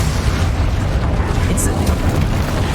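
Spell explosions from Bombarda and Confringo blasts in the Hogwarts Legacy video game, a dense continuous roar of booming, rumbling detonations that fills the whole stretch without a break.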